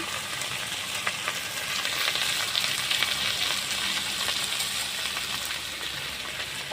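Fish curry with salt and turmeric sizzles and fries steadily in a pan while it is stirred, a soft, continuous crackle with faint scraping at moderate distance and no talk.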